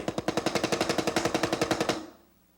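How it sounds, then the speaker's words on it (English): Drum single-stroke roll played with full forearm strokes, about twenty-five evenly spaced hits over two seconds, swelling steadily louder before stopping and ringing off. "if I was making a whole bunch of singles, I would want to get my whole forearm into it. So I would go like this and get louder and louder."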